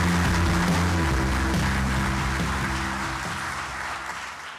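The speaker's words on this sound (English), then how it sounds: "a warm round of applause." An audience at a morning session of a competitiveness conference in a hall applauds, dense sustained clapping that is loud from the start and slowly tapers over a few seconds.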